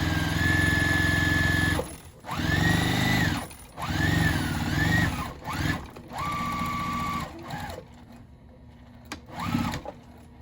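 A sewing machine sews a tote bag in a series of short stop-start bursts, each with a rising and falling motor whine. It is close and clear, with brief quiet gaps and no talk.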